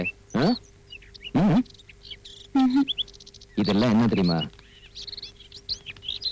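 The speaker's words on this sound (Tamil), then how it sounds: "Singing birds." Caged songbirds chirp and tweet in short bright bursts between spoken lines in Tamil, with the birdsong fairly close and partly under the voices.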